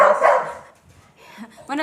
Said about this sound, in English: Oops, excuse my dog.